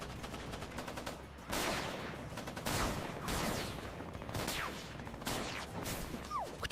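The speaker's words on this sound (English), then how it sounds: "I don't think that's even a bullet. That's like a cannon shell at this point, because it blows like a gigantic hole into the helicopter." Gunfire in bursts, like cannon shells hitting a helicopter: several sharp, crackling volleys with blasts and whooshing debris, fairly faint overall and repeating in quick clusters.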